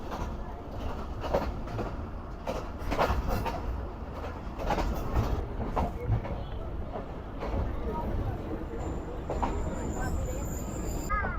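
A passenger train rolls into the loop line at Bandi railway station, its wheels clattering over the track joints in an uneven rhythmic clack that runs steadily throughout, with some voices underneath.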